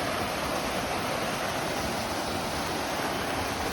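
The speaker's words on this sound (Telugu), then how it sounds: "So this is Kamabuchi waterfall." Steady, dense rushing of falling water from Kamabuchi waterfall in Japan, broadband and constant throughout with no voices.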